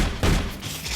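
In The Pit, a video game, an assault rifle fires a short, loud burst, the shots blurring into a booming rattle within about a second.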